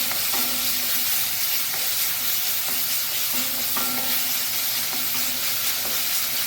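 Tomato and cut green chillies frying in a pan for a fenugreek leaf sukka, a steady close hiss of sizzling oil with soft occasional stirring taps underneath, no talking.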